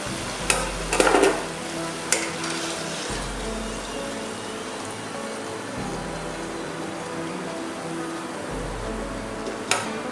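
Mysore bonda frying in hot oil until golden gives a steady, gentle sizzle throughout, with a few louder bubbling spurts and occasional clinks of a utensil stirring, close and without voices.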